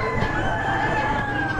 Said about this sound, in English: There's a group of hens.